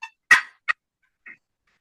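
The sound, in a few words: turkey call imitating turkey sounds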